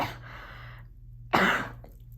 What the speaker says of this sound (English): Me coughing, choking on my own spit like that